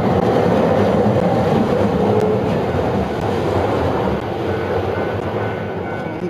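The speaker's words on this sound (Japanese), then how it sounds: "チンチン電車です。" A street tram rumbles past near Tennoji Station, Osaka, running down the middle of the road, a heavy low mechanical roar with faint metallic squeaks, steady and close, slowly easing off.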